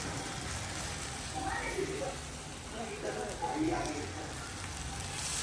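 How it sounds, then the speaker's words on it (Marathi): Water added to a hot pan for a spicy shilan fish gravy gives a steady, broad sizzle and hiss that runs through the whole stretch, with voices talking over it. "ग्रेव्हीसाठी पाणी टाकून घेतलं."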